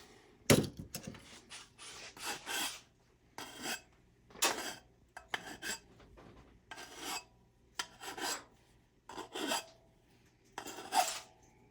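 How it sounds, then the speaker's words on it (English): Hand file rasping back and forth across an aluminum edge in a workshop, about ten short bursts of scraping strokes with brief pauses between them, close and moderately loud, no talking. "Joe's using the file because it's aluminum."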